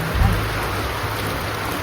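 Heavy rain pouring down outside a home during dinner preparation, a dense steady wash of noise with a low rumbling undertone, loud and continuous with no voices.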